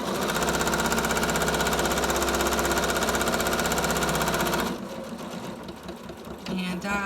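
A sewing machine stitches a homemade ribbon face mask, running in a loud, steady mechanical whir for several seconds. It then stops abruptly and leaves quieter handling noise.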